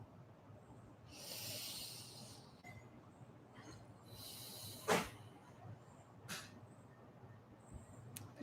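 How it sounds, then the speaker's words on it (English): Deep, slow breaths drawn in and let out as a group breathing exercise, two long airy inhales near the mic with softer breaths following, fairly quiet. "Let's take some deep breaths."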